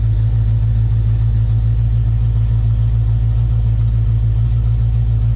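A Firebird car engine idles steadily just after starting, with a low, even hum and a slight pulsing rhythm, close by with no talking.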